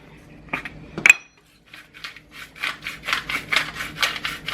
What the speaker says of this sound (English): just going to start adding our green beans to the pot